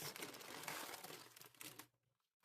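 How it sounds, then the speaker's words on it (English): Plastic packaging on a cross stitch kit crinkles and rustles loudly and continuously up close for about two seconds, then stops abruptly into near silence. "sorry for the crinkling"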